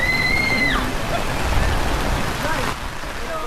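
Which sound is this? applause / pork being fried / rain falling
rain falling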